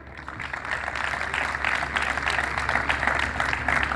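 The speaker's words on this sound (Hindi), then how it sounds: "इनके लिए भरपूर तालियां।" Audience applause for guests at a Voice of Truth Ministry gathering, a steady, dense wash of many hands clapping that swells slightly and holds throughout.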